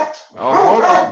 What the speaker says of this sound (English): That's my dog right there.